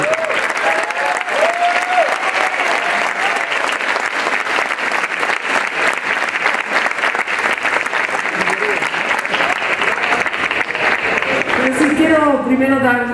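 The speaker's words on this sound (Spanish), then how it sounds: "Les pido que recibamos con un muy fuerte aplauso" An audience at a national student council event in Mexico breaks into long, loud, steady applause as a speaker is welcomed, with cheers and voices mixed in and the clapping holding strong to the end.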